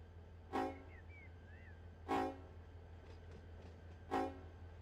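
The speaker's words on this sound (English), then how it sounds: "I just like the way the horn sounds." A Trona Railroad locomotive in Run 8 Train Simulator gives three short, evenly spaced horn blasts about one and a half seconds apart over a low, steady engine hum, with faint squeals between the blasts.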